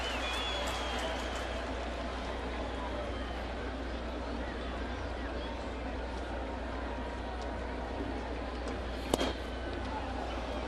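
A stadium crowd at a Yankee Stadium baseball game makes a continuous, distant roar over a low rumble. It stays even throughout, with one brief sharp sound near the end.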